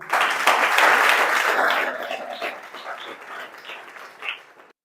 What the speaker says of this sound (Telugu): కొన్ని క్లాప్స్ కొట్టండి అంతా.